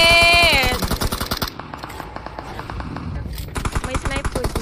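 Rapid, rhythmic gunfire from a battle royale shooter game rattles on loudly throughout, with a tonal game sound at the start and voices talking over the shots.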